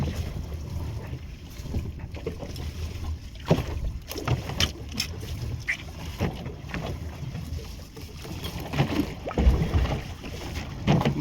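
A small rowboat is paddled across floodwater after a cyclone, with oars splashing and knocking in an irregular rhythm over steady wind noise on the microphone, close and moderately loud.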